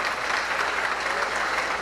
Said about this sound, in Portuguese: Vamos aplaudir mais o Senhor.